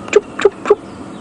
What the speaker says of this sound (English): I can hear a tawny-flanked prinier there going toop, toop, toop, toop, toop.